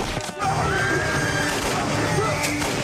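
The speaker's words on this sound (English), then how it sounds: "The horses are freaking out." Horses whinny and neigh amid the loud, chaotic soundtrack of The Mummy (1999) with crashing noise and shouting, the calls rising and falling throughout.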